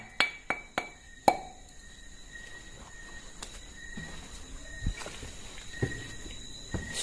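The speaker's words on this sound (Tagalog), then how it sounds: "Ito yung mga baso guys na matagal magiba." Glasses clinking in a few sharp, bright chinks early on, followed by softer knocks and shuffling steps, faint and with no talk.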